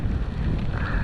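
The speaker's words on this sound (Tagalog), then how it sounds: "Lakas yung hangin." Heavy wind roars and buffets the microphone at night during spearfishing and net fishing, a continuous, loud rush with no voices.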